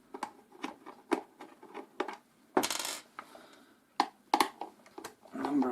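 Small metal screws from a dismantled single-phase AC fan motor drop and clatter one after another onto a hard surface, giving a series of sharp, close clinks with a brief rattling burst midway.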